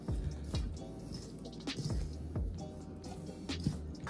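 Milk poured into Jamaican fried dumpling dough, with soft wet squishes and small drips as the dough is worked by hand, close and moderately loud.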